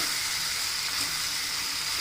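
Chicken pieces with chopped tomatoes frying on high flame for a Chettinad chicken dish, a loud continuous sizzle close up with faint stirring movement beneath.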